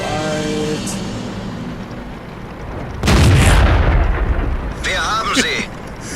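A KV-1S heavy tank's ammo rack detonating in World of Tanks: a loud, close, rumbling blast erupts midway and lingers, following a steady droning hum, with a brief tonal sweep near the end.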